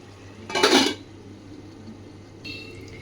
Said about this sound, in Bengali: এবার এটা আমি ঢেকে দিচ্ছি